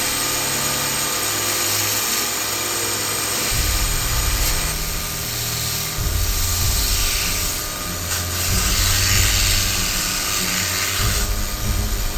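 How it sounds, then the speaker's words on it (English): A bench grinder cleans up a handle part for a repair, a loud continuous high whine and grinding hiss with a low motor hum that shifts as the piece is pressed and eased off. "now I'm just going to clean this thing up on the grinder a little bit"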